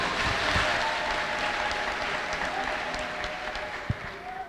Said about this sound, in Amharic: ለኢየሱስ ክርስቶስ ከዚህ የበለጠ አጨብጭቡ እስቲ።